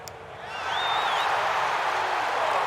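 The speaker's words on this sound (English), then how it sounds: "I don't know why they're cheering." A gallery crowd cheering and applauding after a putt in EA Sports PGA Tour at the WM Phoenix Open, the roar swelling in and holding steady and broad, with a faint whistle early on.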